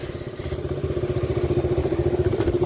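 A KTM motorcycle engine throbs steadily with a rapid pulsing beat, close and continuous, with faint rattles on top while the bike is ridden.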